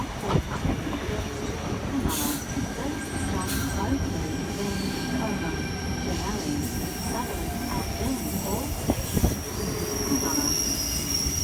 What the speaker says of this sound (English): Tangara approaching platform 2, Cronulla service, T25, the front half